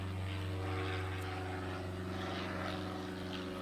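A propeller biplane drones overhead with a steady, fairly loud engine hum and throbbing harmonics that carry throughout, with no talking.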